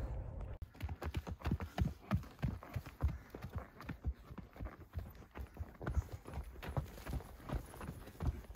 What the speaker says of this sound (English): What horse are you riding today, Blake?